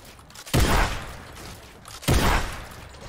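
Two loud, close gunshot blasts in the Fortnite video game, the first at about half a second and the second near two seconds, each with a booming decay and quiet between.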